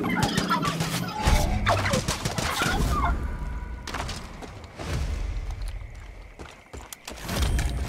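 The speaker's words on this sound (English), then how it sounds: "Fuck you, turkey." A wild turkey in the video game Far Cry 5 gobbles and attacks, with loud, raspy gobbling bursts mixed with thumps and scuffling, coming close and loud in irregular flurries.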